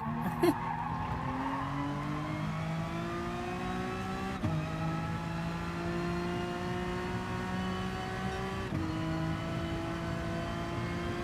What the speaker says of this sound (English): It drifted through that corner